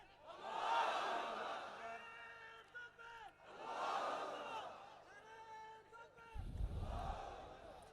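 A crowd at a religious sermon gathering chants slogans together in loud, rising surges, three long call-like waves of many voices, with a preacher's amplified voice in the hall.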